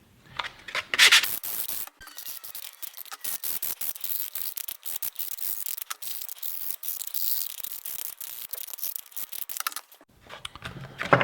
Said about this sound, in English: I'm just going to take a couple of seconds to sand mine